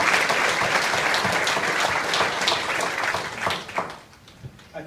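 An audience bursts into a round of applause, dense and loud clapping that holds steady, then thins and tapers into scattered claps near the end.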